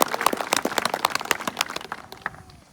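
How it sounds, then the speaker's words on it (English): Scattered, fairly close clapping at a high school graduation ceremony, given in applause for the teachers. The individual claps are distinct and irregular, and they thin out and fade toward the end. "I'd like to give them a loud round of applause"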